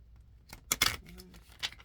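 A deck of tarot or oracle cards being shuffled by hand, with a brief cluster of crisp riffling and slapping card sounds in the middle and a softer flick near the end, fairly close and quiet with no talking.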